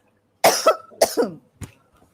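Several short, sharp coughs from a person with a cough, two quick pairs followed by a single softer one, close and clear with silence between them.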